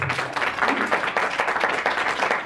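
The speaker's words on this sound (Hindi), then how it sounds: "ताली बजाओ जोर से" A church congregation claps loudly and continuously, a dense, even wash of many hands from a crowd gathered at a worship service.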